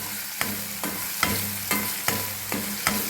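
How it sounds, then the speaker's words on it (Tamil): Onions sauté in a pan, a steady sizzle broken by about seven regular scrapes of a stirring spoon, close and moderately loud. "ஆனியன் கொஞ்சம் நல்லா வதங்கட்டும்."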